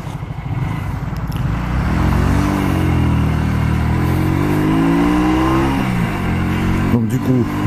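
A Honda Shadow 125 motorcycle rides along at a relaxed pace without pushing the gears, its engine droning steadily up close with a smooth rising tone and a brief dip near the end.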